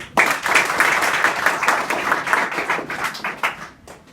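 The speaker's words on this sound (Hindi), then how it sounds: "समाज ताली बजाओ" Schoolchildren clapping together in a school hall, a close, loud burst of rhythmic hand claps that surges, then thins toward the end and stops abruptly.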